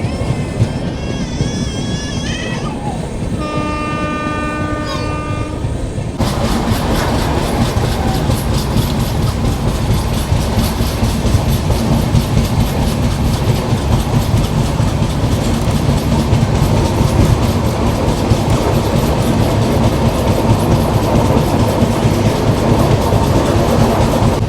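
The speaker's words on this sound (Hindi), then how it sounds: "एक अलग रूट पे अभी अपनी ट्रेन एंटर कर रही है यहाँ पर" Garib Rath express train running on rails between Lucknow and Raipur, a loud, dense rumble with steady clickety-clack wheel beats, preceded by a few seconds of a tonal horn or whistle-like sound.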